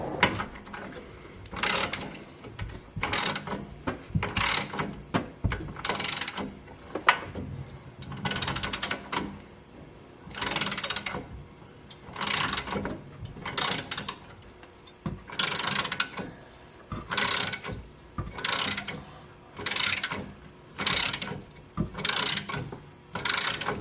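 Ratchet wrench loosening exhaust bolts on a 2016 Mustang GT during an AWE Track Edition exhaust install, repeated bursts of rapid metallic clicking with short pauses between strokes, close and clear, no talking.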